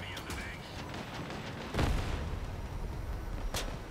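A cryo weapon firing in the vehicle combat game Crossout, heard as a few bursts and a heavy blast with a rumbling tail over constant battle noise and engine drone.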